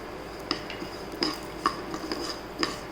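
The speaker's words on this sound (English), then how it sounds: "See now, the rice started popping." Rice fries in a pan with cashew nuts, cardamom, nutmeg and cinnamon, giving a handful of sharp, distinct pops and clicks at irregular intervals over a faint, quiet sizzle.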